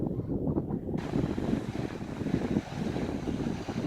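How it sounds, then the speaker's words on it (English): Steady wind on the Morte Point coastal headland rumbles across the microphone in low, gusting buffets, continuous and fairly loud, with faint hiss of distant surf behind. "Sorry if it's a bit windy"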